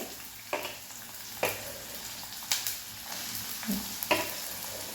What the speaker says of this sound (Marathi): छान असा कांदा आपल्याला तेलावरती परतून घ्यायचा आहे